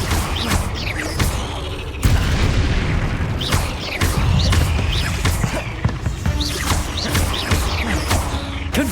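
Confringo blasting spell explosions in a Harry Potter video game, a run of loud, close booms and bursts repeating every second or so over rumbling mechanical clatter.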